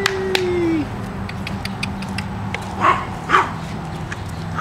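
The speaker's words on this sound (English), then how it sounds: "Yay, puppies!" Puppies yip and bark in a few short, sharp bursts, with two louder yelps near the end, over a steady background hum. A brief whine sounds at the start.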